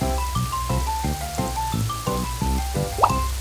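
Rain falls in a children's science cartoon, with dripping, plopping drops over a steady watery bed and light musical tones, closing on a brief rising accent.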